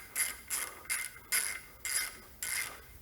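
A hand ratchet snugs up the brake caliper bracket bolts on the rear brakes of a Ford Transit-250 van, giving six evenly spaced bursts of clicking, close and fairly loud, with no talking.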